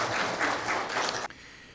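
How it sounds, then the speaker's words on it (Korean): A church congregation at a Sunday service applauds the choir in a dense, steady burst of clapping that fills the room, then cuts off abruptly, leaving quiet room tone. "다시 한번 크게 격려해 주시는 박수 해 주시기 바랍니다"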